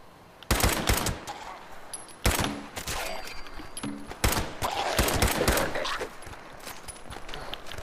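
Several bursts of gunfire aimed at ghouls at a Red Rocket station in Fallout 76, sharp close shots in quick clusters separated by short pauses, with faint game tones between.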